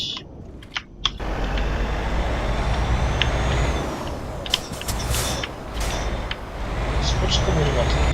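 Iveco truck engine in Euro Truck Simulator 2 droning steadily under continuous talk, with air-brake hisses and short mechanical clicks scattered through.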